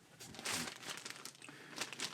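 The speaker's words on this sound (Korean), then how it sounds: "이런 비닐 봉투에 넣어서 송장 붙여서 보내고 있습니다" Plastic courier envelope crinkles and rustles in short, soft bursts close by, quiet with no speech.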